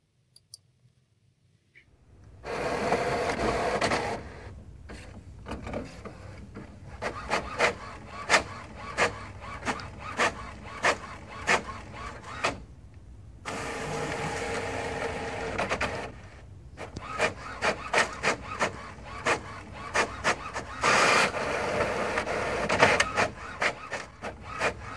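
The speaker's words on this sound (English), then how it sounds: "ensure that you have paper in your printer and simply click print." An HP Officejet Pro 7740 printer printing pages, with mechanical whirring passes broken up by rapid clicking and ticking, pausing briefly between sheets, close and moderately loud.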